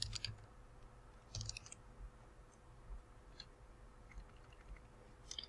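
Faint, sharp computer mouse clicks while editing a link in Google Sites, a few isolated clicks spread across quiet room tone with no talking.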